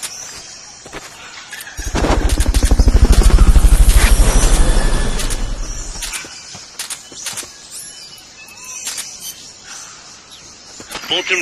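The Fulton recovery helicopter in the video game Metal Gear Solid Peace Walker roars in loudly with a heavy rotor throb that swells, peaks and then fades away, leaving faint game sounds.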